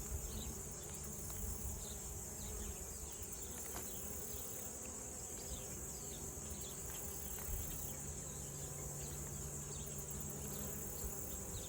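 Honey bees buzz around a hive during an inspection, a steady dense insect hum filling the space throughout, moderately close, with no voices.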